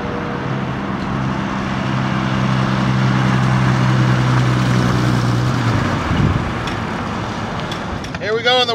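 A 1930 Willys Whippet classic car drives along with a steady low engine drone and road rumble filling the cabin, fading near the end as a voice starts speaking.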